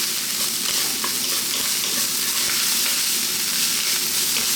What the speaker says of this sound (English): That is the rice frying, and that's definitely what we want.